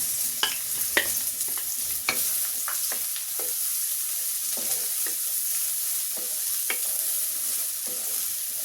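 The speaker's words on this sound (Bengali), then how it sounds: "পেঁয়াজটা একটু ভাজা ভাজা হোক" Onion and garlic fry in oil with a steady sizzle, broken by sharp scrapes of a spatula stirring the pan every second or so.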